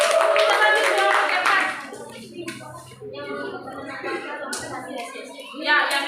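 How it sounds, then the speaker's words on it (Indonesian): Applause for a student group in a classroom: loud, dense clapping for about two seconds, then scattered claps, taps and shuffling amid children's voices and room noise. "tepuk tangan untuk kelompok 3"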